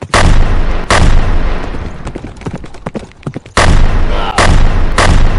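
Loud gunshots crack out in bursts, a heavy volley at the start and more blasts near the end, with scattered sharper shots and rumble between.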